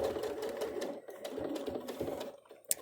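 A sewing machine stitches a folded fabric face mask in steady rapid bursts with brief pauses, close and fairly quiet, ending with a small click.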